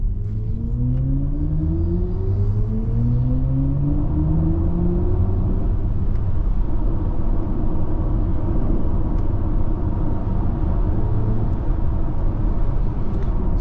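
A BMW iX electric car accelerates hard in sport mode past a toll plaza. Its motor whine climbs steadily in pitch over a constant heavy road and tyre rumble, heard from inside the cabin without talk.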